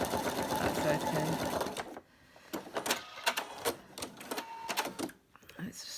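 A sewing machine free-motion stitches tiny, close-set appliqué stitches on a beach hut picture, running in one continuous rapid burst at first, then in shorter stop-start runs, close and clear.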